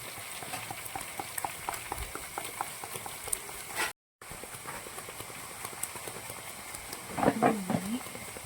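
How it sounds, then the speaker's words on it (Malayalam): Water bubbles steadily in a pot before turmeric water goes in, a continuous close boiling patter with a brief cut-out midway and a short voice near the end. "തിളപ്പിച്ച് കൊടുത്ത് മഞ്ഞവെള്ളം ഇടും."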